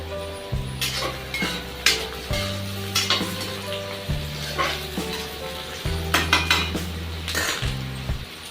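Onions fry in a pan for a homestyle Punjabi vegetable dish. A continuous close sizzle runs under repeated clinks and scrapes of stirring, with no talking.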